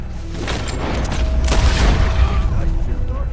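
A heavy gunshot booms in Red Dead Redemption 2, with loud rumbling echo and dense low-end noise. It carries on steadily through the short stretch, and the sound of the shot overlaps with other in-game sounds.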